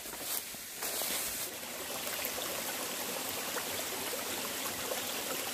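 A mountain valley stream flows steadily nearby, a continuous broadband rushing and trickling of water with no pauses and no talk.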